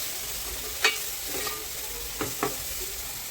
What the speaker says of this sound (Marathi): हळद, धनिया पावडर, त्याला मिक्स करून घेते।